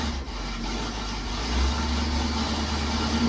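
A muscle car's engine idles cold after sitting unused all winter, a steady low rumble with a constant hum, close and loud with no talk over it.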